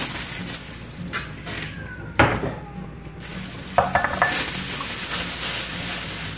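Dried shrimp tipped into a pan for lumpiang sariwa and stirred, giving scattered clinks and scraping knocks of utensil on cookware with a sharper clatter midway, close by over a steady low background hum.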